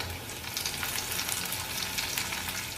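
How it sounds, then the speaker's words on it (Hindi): Sliced garlic, cumin seeds and dried red chillies fry in ghee for lasooni palak, giving a soft, even, crackling sizzle close by with faint stirring and no talk. "लहसुन को थोड़ा लाइट ब्राउन होने तक भून लेते हैं।"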